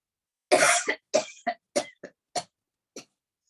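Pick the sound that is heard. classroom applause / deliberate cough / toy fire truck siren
deliberate cough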